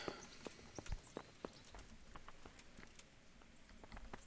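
Horse hooves in the video game Kingdom Come clip-clop in an uneven walking rhythm, soft and fairly faint, with a light hiss behind them.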